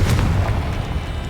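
A Confringo spell explosion in the Hogwarts Legacy video game: a single deep, loud boom with a rumbling low end that decays over about a second.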